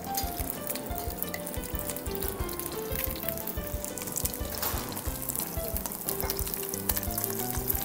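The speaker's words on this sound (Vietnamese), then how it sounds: "chúng ta áp chảo trước" Salmon pan-searing in a frying pan, a steady close sizzle and crackle of hot oil with small spits and pops running continuously, no voices.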